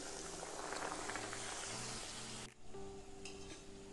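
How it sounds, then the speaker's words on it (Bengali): Fish-stuffed kachuri frying in hot oil, a steady close sizzle and crackle with a brief dip midway, then bubbling continues alone. "গরম তেলের মধ্যে বেলে নেওয়া কচুরি দিয়ে আবার উল্টে পাল্টে ভেজে নেব।"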